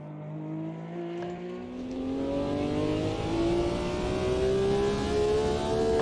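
BMW M1 Procar engine accelerating on the 1971 historic Nordschleife in a sim, its tone rising steadily through the revs, loud and close, with no gear breaks and no talk.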